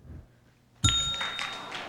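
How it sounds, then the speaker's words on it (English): A bell at the 1997 spelling bee, sounded after a misspelled word, gives one sharp, bright ding over a murmuring hall, its ringing tone lingering and fading. "We hear the bell"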